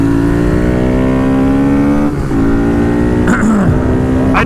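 A motorcycle engine idles loud and close before wheelies, holding a steady harmonic drone with a couple of brief blips and dips in pitch.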